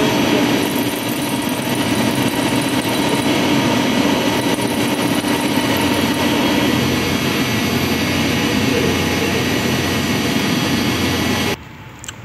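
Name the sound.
diamond wheel grinding machine running during step drill bit manufacturing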